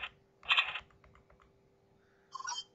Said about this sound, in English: to cut, you just keep clicking your mouse